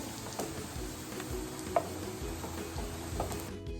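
Jackfruit jam (chakka varattiyathu) being stirred with milk in a pan, giving a steady soft sizzle with faint scraping strokes throughout and no talking.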